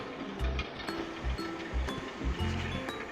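Steady rush of water from a traditional Himalayan gharat watermill in the hills, a continuous fairly loud flow with a repeating low thumping rhythm beneath it.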